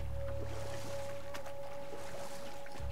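A rowboat moves across water in the God of War video game. Soft oar splashes and gentle lapping water sit under a steady humming tone, with a brief louder swish partway through.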